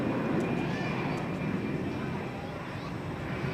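A Finnair airliner at Zurich Airport gives a steady, broad jet engine rumble and roar that carries throughout at moderate distance.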